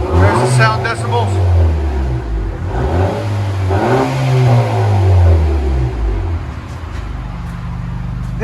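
A 2019 Honda Accord 2.0 turbo with dual straight-pipe exhaust revs repeatedly, its loud low engine note rising and falling in several swells while people talk over it.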